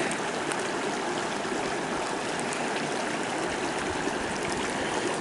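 A Sawyer Squeeze water filter bottle is filled in a mountain stream on the trail to King's Peak, against a constant loud rush of flowing water with no pauses.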